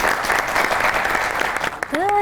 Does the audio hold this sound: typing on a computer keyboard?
no